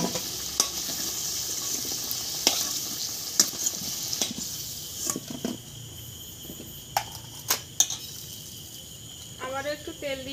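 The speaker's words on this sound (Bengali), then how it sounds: "এবার আলুটা কিন্তু একদম আমার লাল লাল করে ভেজে নেওয়া হয়ে গেছে।" Potatoes frying in oil in a pan for a Bengali dish with mankochu and chui jhal, a soft steady sizzle with scattered clinks and scrapes of utensils, and a voice briefly heard near the end.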